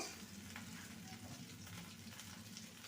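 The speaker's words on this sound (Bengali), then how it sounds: "বেগুনটাকে উল্টে দেব দেখতেই পাচ্ছেন সুন্দরভাবে ভাজা হয়েছে একদিকটা আরেক দিকটা ভাজা হবে" Slices of brinjal and tomato fry in hot oil in a pan with a steady, faint crackling sizzle that carries on without pause and without talk.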